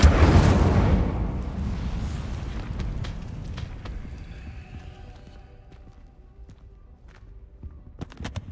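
Hogwarts Legacy's Incendio fire spell erupting in a loud whooshing roar of flame that gradually fades into crackling and faint clicks over several seconds.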